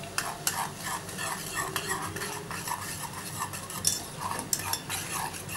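Chutney bubbles in a pan with a soft sizzle while a utensil stirs and clinks against the metal in a loose, repeated rhythm, fairly quiet and close, with no voices.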